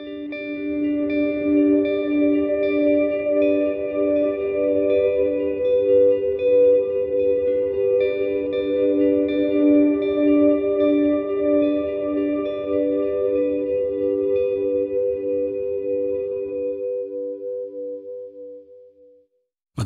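A Strymon BigSky MX reverse reverb effect on guitar: sustained chords swell slowly into a shimmering, washy tone that holds for long stretches, then fades away near the end before a sudden click.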